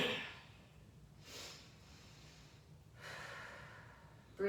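Deep breaths drawn in and pushed out during a floor exercise routine, two soft broadband breaths spaced a couple of seconds apart, fairly quiet and close, with no talking.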